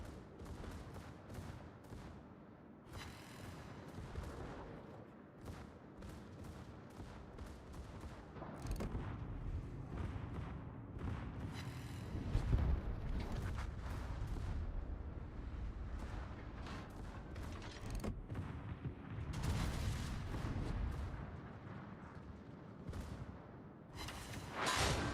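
Naval ship guns fire in the World of Warships video game, delivering repeated heavy booming salvos in irregular bursts, with rumbling blasts overlapping one another throughout.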